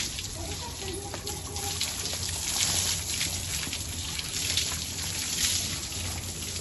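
Water runs steadily into cattle troughs at a new farm shed in Punjab, a continuous rushing flow heard close by with no break.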